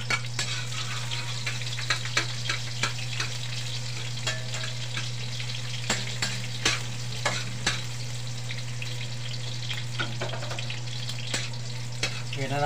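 Chopped onions sizzle and crackle steadily in a frying pan, with frequent scraping stir strokes and light clinks of a utensil over a constant low hum throughout.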